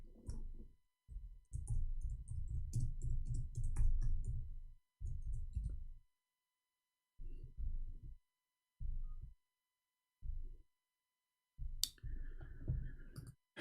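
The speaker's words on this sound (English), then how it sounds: "we are typing in English" Typing on a computer keyboard in bursts of dense, close clicking separated by short pauses, with no talking.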